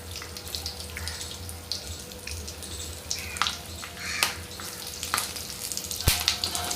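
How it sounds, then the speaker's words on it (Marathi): Chili peppers dropped one at a time into a frying pan of hot oil with curry leaves, crackling and sizzling steadily with a few sharper pops near the end. "आता आपण एक एक मिरची फ्राईंग पॅनमध्ये फ्रायसाठी सोडूया"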